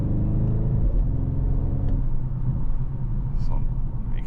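A 630 hp Audi RS7 Performance on the German Autobahn, heard from inside the cabin as a deep rumbling engine note with a steady droning tone that shifts partway through, continuous and close, with someone talking over it.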